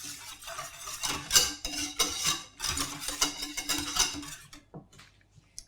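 A whisk stirs dark chocolate ice cream ingredients in a bowl, giving busy scraping and clinking strokes in an uneven rhythm. It sounds close and steady, then tapers off at the end, with no talk over it.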